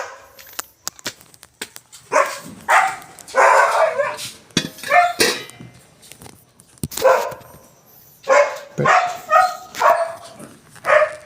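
A pet dog named Brianna barks waiting to be fed, sharp repeated barks and yips coming in uneven bursts, close and fairly loud, with quiet gaps and small clicks between them.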